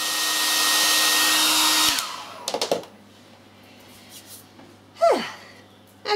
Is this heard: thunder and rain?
no